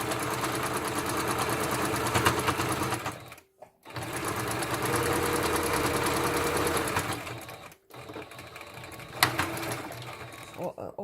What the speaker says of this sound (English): Just a little reverse stitching to make it more secure.